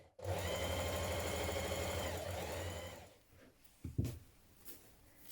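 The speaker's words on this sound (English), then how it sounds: "we're going to sew 2 rows of gathering stitches" A sewing machine hums quickly and steadily, sewing long gathering stitches along a sleeve edge, then stops, leaving a couple of soft handling knocks.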